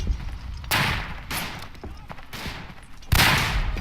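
Rifle and machine-gun fire in the World War I trench-warfare game Verdun, sharp volleys of shots bursting out in several loud clusters over a dull battlefield rumble.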